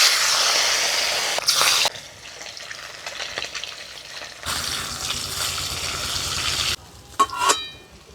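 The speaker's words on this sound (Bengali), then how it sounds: "ওই তেলে মাছগুলো আগে ভাজবো" Rohu fish pieces frying in hot mustard oil in a kadai, making a loud, steady broadband sizzle that swells and drops as the pieces shift, heard up close with a few sharper spits and clatters and no talk.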